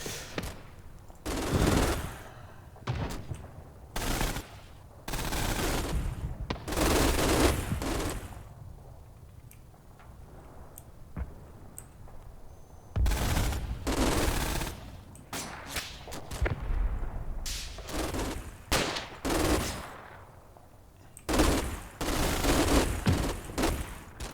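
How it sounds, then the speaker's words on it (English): Machine gun fire in the WWII tactics game Combat Mission Final Blitzkrieg, including an MG42: repeated loud bursts of rapid automatic shots separated by short quiet gaps, with distant gunfire between. "looks like that other first platoon getting in position has opened up a little bit"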